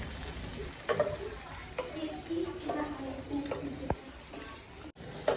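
Jalebi fry in hot oil, giving a continuous soft sizzle and bubbling with occasional light clicks of a utensil, moderately close, while a person talks over the cooking.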